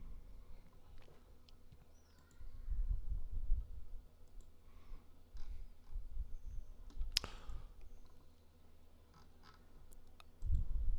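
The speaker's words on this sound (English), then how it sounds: "typing in chat a bit" Someone types chat messages on a computer keyboard while playing Rocket League, producing sparse, light clicks close by over a low steady hum, with a few heavier thumps.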